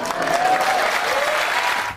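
A studio audience at a televised debate applauds loudly and steadily, dense clapping with some cheering mixed in.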